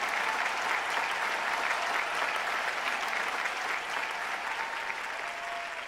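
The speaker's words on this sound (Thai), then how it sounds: "รับเสียงปรบมือจากพวกเรานะคะ" An audience at an Amway diamond-level pin awards ceremony in Thailand applauds the family, with steady, dense clapping that holds throughout and eases slightly at the end, and no voices.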